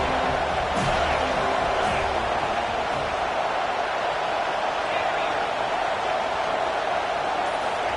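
A dense, steady crowd roar fills the whole stretch, loud and unbroken, like a packed stadium heard from within, in a college football video game.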